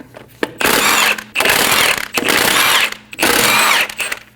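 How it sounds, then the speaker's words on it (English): Impact gun with a 17mm socket spinning off the five lug studs on a 2012–2022 Volkswagen Passat front wheel, three loud sustained whirring bursts separated by short pauses, no talking. "Using a 17mm socket, remove the 5 lug studs"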